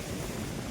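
Strong storm wind roars steadily through a thunderstorm with hail in early summer, a dense, unbroken rush like surf, with no voices over it.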